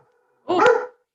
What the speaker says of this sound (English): Pardon, there's a dog.